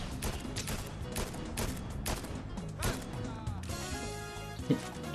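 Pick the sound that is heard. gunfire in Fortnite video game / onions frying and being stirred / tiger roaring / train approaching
gunfire in Fortnite video game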